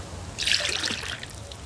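Water trickles and pours briefly in the survival video game Mist Survival, a short bright splashing burst of under two seconds, heard on its own.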